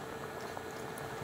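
Coconut milk simmering in a pot with fried tuna-like tulingan fish, a steady soft bubbling and sizzling texture that runs continuously at close range with no voices.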